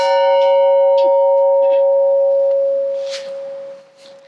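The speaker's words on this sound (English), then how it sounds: "This bell was one of 3 that hung at different times of the school's history in the tower above the school." An old one-room schoolhouse bell, once hung in the school's tower, rings one loud, clear stroke whose long tone hangs and slowly fades over several seconds, heard alone.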